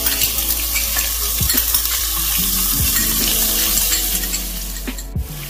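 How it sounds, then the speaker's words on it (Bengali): Soaked rice frying in ghee in a pan, a steady bright sizzle with occasional stirring scrapes, close and fairly loud with no talking. "যে চালটা আমি ভিজিয়ে রেখেছিলাম সেই চালটা এর মধ্যে দিয়ে দেব।"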